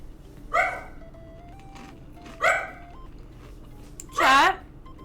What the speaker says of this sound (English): You don't hear the woo? Have you guys ever heard a corgi, a woo?